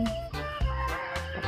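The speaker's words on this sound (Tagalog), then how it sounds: "may mga manok panabong." Fighting roosters cluck and call in short bursts close by on a farm in the Philippines, a quick series of clucks over a low background hum.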